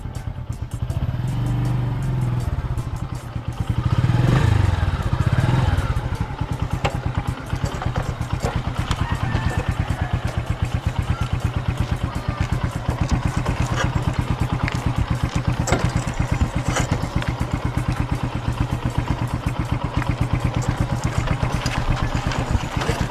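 A motorcycle engine idles and revs nearby, a steady mechanical rumble that swells louder briefly before settling back into a continuous clattering run.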